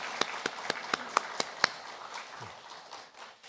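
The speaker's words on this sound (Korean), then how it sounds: "박수로 환영합니다." In a Sunday church service, a new pastor is welcomed with clapping: seven crisp, evenly spaced claps close by, then quiet.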